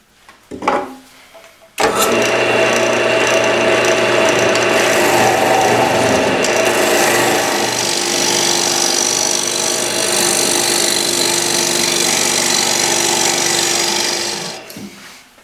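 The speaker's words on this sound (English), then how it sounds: "now I'm ready to start hollowing this out" Maple bowl being hollowed on a wood lathe: a steady, loud scraping rasp of the gouge against spinning wood runs continuously for most of the clip, starting abruptly after a brief knock and fading out at the end.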